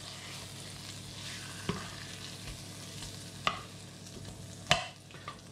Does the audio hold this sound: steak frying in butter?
yes